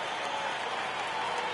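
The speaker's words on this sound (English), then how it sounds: "Crowd gets up for the 3-2." Steady crowd roar and cheering from a baseball video game on PS4, rising as fans stand for a full 3-2 count; a continuous, fairly loud wash of noise with no break.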